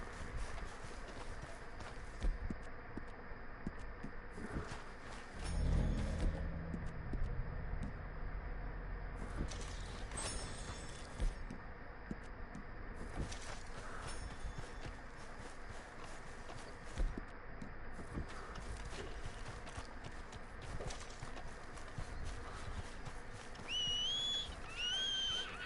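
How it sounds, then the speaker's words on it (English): Horse hooves clip-clopping at a steady run in Red Dead Redemption 2, over a continuous outdoor ambience, with occasional whistle-like tones and no talking. "Come my horse, let's go to the camp."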